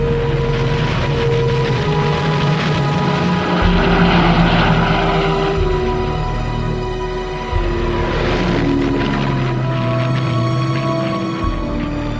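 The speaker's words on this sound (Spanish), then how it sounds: "una exhibición de nuevos modelos de aviones para la" Aircraft engines drone steadily and loudly at a Luftwaffe display of new airplane models before the war, a continuous propeller roar that swells and fades slightly, with no voices.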